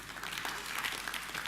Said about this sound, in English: This is the first round of applause I've got in 4 years of speaking.